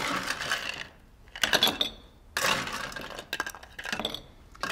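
Ice cubes dropped into a glass while making a caipirinha, with bright clinks and rattles in three or four short close bursts over quiet background.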